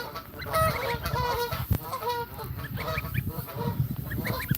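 Bar-headed geese honk repeatedly in a noisy, overlapping chorus, several birds calling at once at close range with steady low background rumble.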